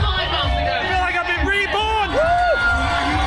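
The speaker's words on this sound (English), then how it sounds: "the crowd really got behind the runners" Spectators at the London Marathon cheering runners, a dense mix of shouting, whooping and babble with prominent rising and falling voices close by.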